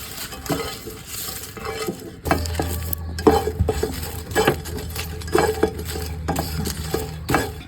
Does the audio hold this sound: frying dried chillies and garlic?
yes